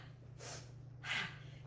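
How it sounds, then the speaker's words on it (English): During an exercise session a person breathes close to the mic, drawing one sharp breath in and then letting one breath out, each loud against faint background hum. "Breathe in, breathe out."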